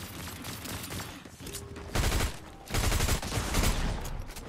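Rapid bursts of Fortnite gunfire crackle in several volleys, loud and close, with brief pauses between the sprays of shots.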